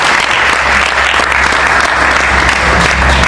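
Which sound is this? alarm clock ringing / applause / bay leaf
applause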